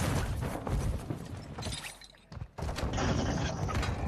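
Dense rattling gunfire and crashing impacts fill a mobile video game battle, loud and continuous, briefly thinning before resuming at full intensity.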